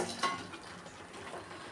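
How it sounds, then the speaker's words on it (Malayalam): Fried coconut pieces and onion are tipped into a pan of chicken, giving a clatter of utensil against the pan followed by faint scraping and a low sizzle, quiet and with no voices. "നേരത്തെ ഇത്തിരി തേങ്ങാക്കൊത്തും ഒരു സവാളയും കൂടി ഒന്ന് വറുത്ത് വെച്ചിരുന്നു, അതുകൂടി ഇതിലേക്ക് തട്ടുന്നു."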